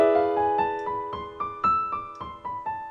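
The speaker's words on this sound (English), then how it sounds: "It is Phrygian Dominant, the fifth mode of the scale." A melodic phrase in the Phrygian Dominant mode, the fifth mode of the scale, played as a steady run of separately attacked pitched notes with rich harmonics, about eight notes over three seconds, clear and alone without talk.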